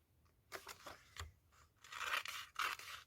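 Scissors cutting out a paper picture for a brown bag junk journal, with a few faint snips followed by louder, crisp crunching cuts, close up and quiet overall.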